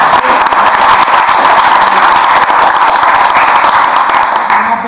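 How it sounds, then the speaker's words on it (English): Loud, dense applause from an audience for poets, many hands clapping continuously at full strength throughout, fading slightly only at the very end. "a round of applause to all you poets"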